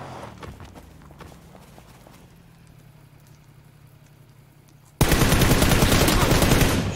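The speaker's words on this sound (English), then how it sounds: "Shot him in the head." Gunshots in a first-person shooter video game: a few sharp shots and quieter clicks and steps at first, then a sudden loud, sustained rattle of automatic fire near the end, close and without talk.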